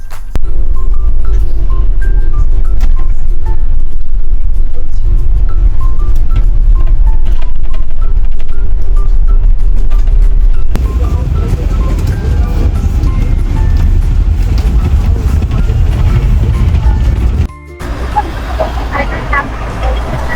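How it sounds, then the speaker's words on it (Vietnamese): A bus pulls up in front of a hotel in Hong Kong, its steady low engine rumble loud and close, easing off near the end as it comes to a stop, with voices faintly talking in the background. "Xe buýt sẽ dừng ngay trước khách sạn luôn."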